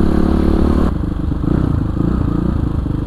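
Kawasaki KLX 450 supermoto motorcycle engine running steadily up close, a dense low throbbing drone with harmonic clatter that drops slightly in pitch after the first second, then holds even.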